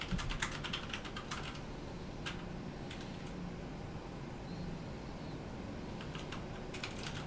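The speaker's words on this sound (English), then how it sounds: "he's typing in the background" Quiet bursts of clicky keyboard typing in quick runs, separated by pauses, over a steady low hum of background noise, heard over an online flight-simulator radio channel.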